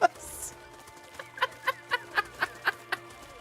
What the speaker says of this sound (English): Why does it sound like there's fucking uncooked chickens raining down around us?